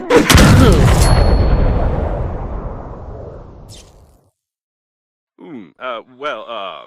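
In the space game Breathedge, a weapon fires at an airlock latch with one loud, booming blast that rolls off into a long fading rumble, then silence, and a voice speaks afterward.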